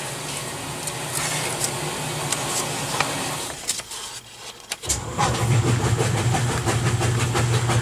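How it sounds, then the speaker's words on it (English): A washing machine churns steadily with a low mechanical rumble, briefly dropping quieter midway before the hum swells back louder. "I have my washing machine going."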